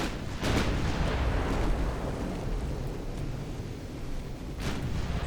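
Heavy naval guns roar from an early battleship in the UA: Dreadnoughts naval combat game, set in 1899, with loud booming salvos over a steady rumbling sea and engine wash, one sharp blast near the start and another near the end.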